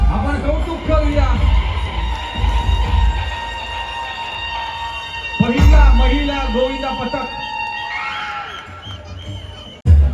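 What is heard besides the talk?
crowd applauding and cheering for women's Govinda team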